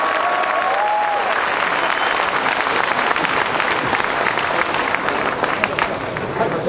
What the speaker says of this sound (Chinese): 各位掌声给两位。